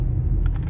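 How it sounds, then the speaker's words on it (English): A COTA (Central Ohio Transit Authority) public bus rolls past on a street in Easton, Columbus, Ohio, its engine a steady, close, low rumble that holds through the whole brief moment with faint higher hiss on top. "that's a public transportation bus. It's called COTA"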